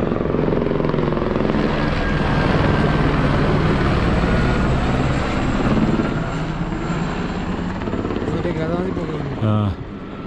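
A helicopter flies over the Kedarnath route in the mountains with a loud, continuous rotor and engine roar that dominates the scene, with voices talking beneath it.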